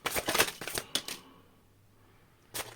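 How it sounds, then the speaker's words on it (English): A deck of tarot cards riffled and shuffled up close, a quick burst of papery flutter and snaps, then a pause and one last short flick. "Last shuffle."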